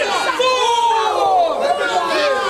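A wrestling crowd reacts with loud shouting and chatter. Voices rise and fall in overlapping jeers and calls throughout.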